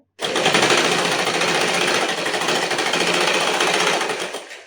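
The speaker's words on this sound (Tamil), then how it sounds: "ஃபோல்ட் பண்ணி ஸ்டிச் பண்ணுங்கள் ஸ்ட்ரைட்டாக" A sewing machine runs at high speed stitching a saree fall, a loud continuous rapid chatter from start to finish, stopping abruptly at the end.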